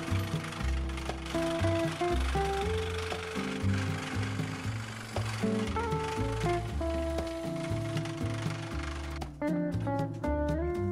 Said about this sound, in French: Et c'est parti pour un petit coup de scie.